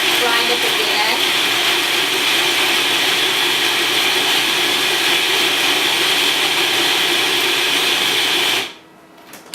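A blender grinds gluten-free carrot cake ingredients with a little filtered water, a loud, steady motorized roar that holds constant for several seconds before cutting off near the end.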